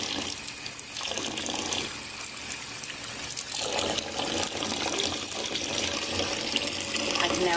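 Tap water runs steadily from a faucet into a sink, rinsing a set of dentures, with a continuous close splashing stream that shifts slightly as the dentures move under it, lasting throughout.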